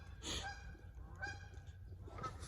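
A farm goose honks in three loud, harsh bursts close by, with steady low rumble underneath and no talking.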